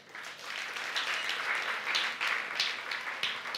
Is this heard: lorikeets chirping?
no